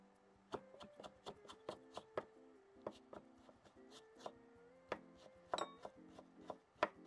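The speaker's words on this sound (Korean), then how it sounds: "우엉 아까 졸인 거를 내가 채 썰어 볼게요." A knife julienning braised burdock root on a cutting board makes a brisk run of sharp, close chops in an uneven rhythm, with a faint voice in the background.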